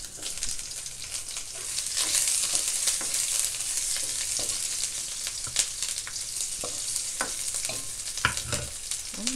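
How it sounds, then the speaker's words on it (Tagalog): Onions frying in a hot pan for balatong, a steady sizzle with occasional stirring scrapes and clinks, close and continuous with no talking. "Pag brown na, lagay na natin yung ating sibuyas."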